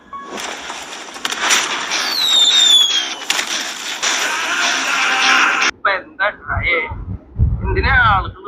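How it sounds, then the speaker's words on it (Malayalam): Firecrackers burst during a festive Vishu celebration scene, a dense crackling barrage with sharp pops and whistling streaks, followed by a sudden cut to voices talking. "പടക്കം പൊട്ടിച്ച്"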